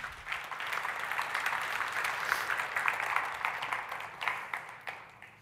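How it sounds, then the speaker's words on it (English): A conference audience at a programming talk breaks into applause for the speaker, a fairly soft, sustained patter of many hands clapping that swells and fades slightly, with no voices over it. "So let's give him a huge round of applause."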